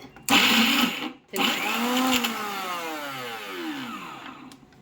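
Mixer grinder whirring with raw mango and fresh coconut chutney in the jar, a loud motor burst that stops briefly, then restarts and slowly winds down, close up with no talk.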